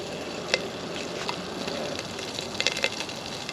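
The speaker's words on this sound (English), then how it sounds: "throw the sausage in there and cook some sausage" Sausage fries on a Jetboil Flash camping stove, a close, even sizzle with scattered sharp pops and crackles and a low gas burner hiss underneath, no voices.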